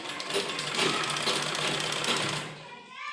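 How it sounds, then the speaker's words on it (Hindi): A sewing machine stitches a fabric tie onto a kurti, a loud, steady, close mechanical whirr running nearly unbroken for about two and a half seconds before stopping. "इस तरह से सिलाई लगा देंगे इसमें।"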